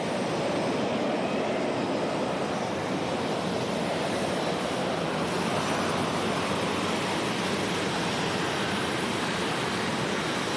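A Peterbilt pulling truck at a Dragway 42 night pulling event in Ohio roars continuously at full power through a pull run, a loud, dense, steady engine wash with no talk.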